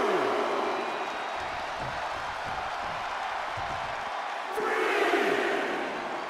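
Wrestling event crowd cheering in an arena, a sustained roar of many voices with a surge toward the end, close and loud throughout.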